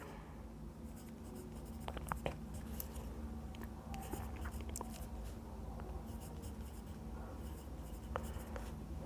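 A pen scratches out labels on a paper diagram of a DOL starter, a quiet, close, irregular scribbling with small taps and strokes over a faint room hum.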